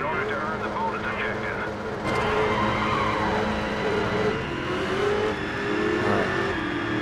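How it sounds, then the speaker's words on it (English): A Shelby Cobra racing in the GRID video game, its engine droning and shifting pitch under continuous talk, with tire noise and a sharp gear change partway through. "I'm driving a nice Shelby Cobra."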